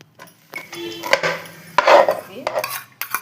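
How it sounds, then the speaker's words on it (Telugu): A kitchen knife slices onions and green chillies, giving a handful of sharp, irregular chops and taps, close and fairly quiet, with small clinks between the cuts. "ఉల్లిపాయలు పచ్చిమిరకాయలు కోస్తున్నాను"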